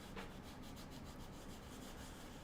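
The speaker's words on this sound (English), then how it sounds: "Rub it out on your card." A fingertip rubs ink or paste onto a paper card in a continuous, very faint dry scrubbing, with quick rhythmic strokes and no talking.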